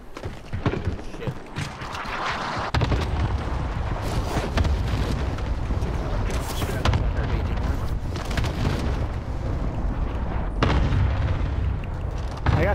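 Gunfire and booming blasts in the video game Warzone crackle through a continuous dense battle din, with sharp bursts recurring throughout while players talk over it.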